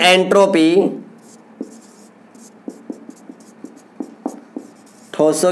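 Chalk or marker taps and scratches while notes are written on a board during a chemistry lesson, in short irregular strokes between spoken phrases; someone talks at the start and end.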